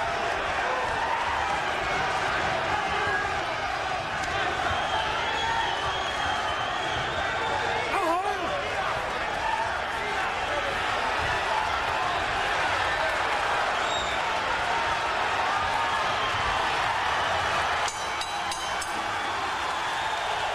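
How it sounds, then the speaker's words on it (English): A boxing arena crowd at a WBC featherweight title fight stands and applauds, producing a dense steady roar of clapping and cheering that lasts throughout, with a commentator talking over it. "The whole house on its feet now, applauding the effort of both fighters"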